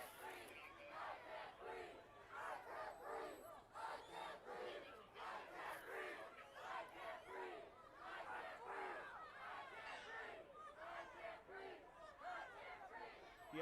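Protest crowd in San Antonio shouting and chanting loudly and steadily throughout, a dense wall of many voices rising and falling close by.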